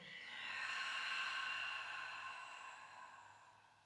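A long, soft breath is pushed out through the mouth during a yoga flow, rising and then slowly fading over several seconds, quiet and close with no talking.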